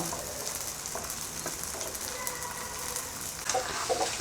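Soaked sabudana tapioca pearls fry in oil in a pan with potato and chilli, giving a steady close sizzle with soft scraping stirs and a few louder crackles toward the end.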